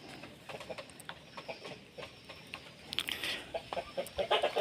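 A flock of chickens, including an imported breed, clucks and calls outdoors on a sunny late afternoon, a scatter of short clucks that grows busier and louder toward the end, with no talking.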